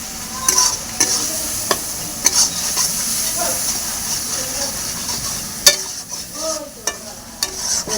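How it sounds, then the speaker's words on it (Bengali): Ground cumin, coriander and garam masala frying in oil in a pan, with a steady close sizzle broken by repeated scraping strokes of a stirring spoon, for fish curry. "এবার একসাথে মশলাগুলো আমি ভালো করে কষিয়ে নেব।"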